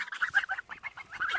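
Two farm geese being fed bread make rapid, close gabbling honks and clucks in an unbroken, busy stream of short calls.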